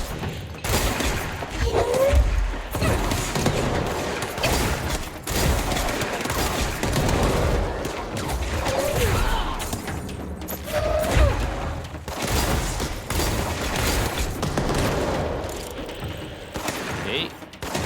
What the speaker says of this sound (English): You're launching grenades.